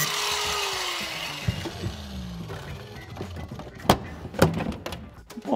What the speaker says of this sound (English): He's taking the interior out with an angle grinder.